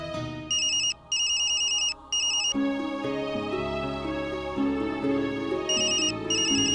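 A bright electronic ringtone melody plays loudly, with repeating chiming phrases briefly pausing between bursts before a fuller musical passage continues.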